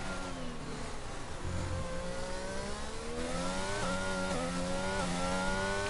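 Onboard engine of a Mercedes Formula 1 car in a racing game at Bahrain, a high, clear whine that climbs and shifts pitch through the gears, steady and close with no talk.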